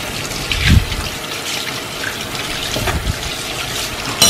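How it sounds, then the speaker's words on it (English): Tap water runs steadily over a fish being rinsed at a sink, a continuous close gushing splash with a couple of brief louder knocks, and no voices. "Just let me give it this a rinse."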